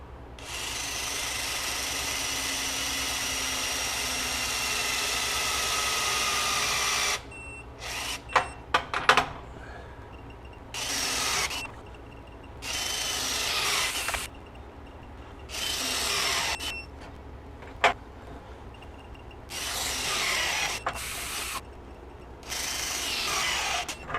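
A Myers MTS53371 air impact wrench hammers bolts tight, starting at 150 foot-pounds, in loud repeated bursts of rattling impacts separated by short pauses, after a long steady hiss of compressed air.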